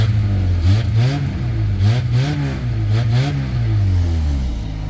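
The engine of a 1999 Honda Accord with a major exhaust leak, revved repeatedly in rising and falling swells, loud and close, with a raspy, blatty exhaust tone.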